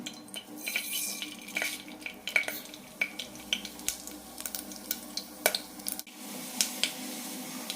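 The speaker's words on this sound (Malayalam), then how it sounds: "കുക്കറിലേക്ക് രണ്ട് ടീസ്പൂൺ എണ്ണ ഒഴിച്ചിട്ടുണ്ട് അതിലേക്ക് കടുകിടാം" Mustard seeds splutter in a little hot oil in a pressure cooker, giving a run of close, sharp popping crackles over a soft sizzle, with a brief clatter of metal.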